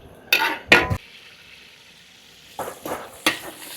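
Garlic and onion sauté in a pan in a Filipino kitchen while loming is cooked, with two sharp bursts of sizzling and stirring clatter early on, a quieter steady fry in between, then more scraping and sizzle toward the end.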